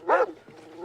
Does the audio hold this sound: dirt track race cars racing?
no